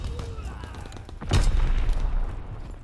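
A grenade blast in the World War II shooter Call of Duty: WWII, a loud low boom that swells and lingers amid gunfire and ambient battlefield noise.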